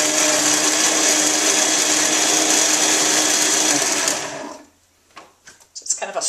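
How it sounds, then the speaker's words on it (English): A Vitamix blender runs at full power, blending ingredients into a slurry, loud and continuous for about four seconds before cutting off, followed by faint clatter and handling noises. "I'm going to take and just blend this up."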